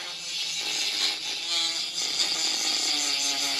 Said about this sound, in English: Y'all see how I'm grinding that off?